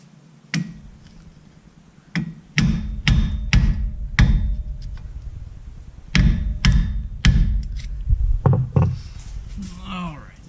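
Repeated heavy metallic hammer blows in uneven bursts, loud and close, hammering out a front wheel speed sensor on a 2003 Nissan Pathfinder 4WD, with pauses between groups of strikes.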